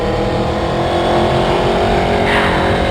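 Aprilia Tuono 1100 V4 motorcycle engine revving hard on a mountain hill climb road, a loud, continuous roar held close throughout with a slight rise in pitch near the end.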